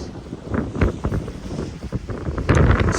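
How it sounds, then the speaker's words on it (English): Cold wind gusts by a lake, a loud rumbling buffet of air battering close by, surging and easing in uneven waves with a stronger blast near the end. "Standing in this little shelter to get out of the wind for a little bit"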